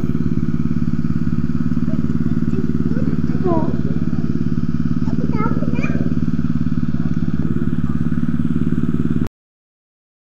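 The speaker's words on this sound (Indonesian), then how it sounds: "Ini kolam ikannya lagi dikuras ya teman-teman, pakai mesin." Engine-driven pump draining a fish pond that holds tilapia, a loud, steady droning hum running throughout, with a few brief voices over it before it cuts off abruptly.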